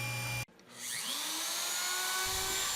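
A table saw with a crosscut sled cuts birdseye maple: the motor whine dips sharply as the blade bites, then climbs back to a loud, steady high-pitched spin and holds there close up, with no voices.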